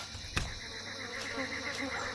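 Bees buzz faintly in Empyrion: Galactic Survival as a soft, steady insect drone under quiet ambient game sound, with a brief sharp click near the start.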